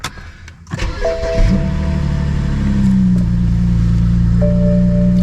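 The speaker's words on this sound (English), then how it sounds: "Want to do a quick cold start with the car right now." A BMW E90 335i cold start on a cool morning: a brief chime and whir, then the engine cranks and catches, flaring before settling into a loud, steady idle close by.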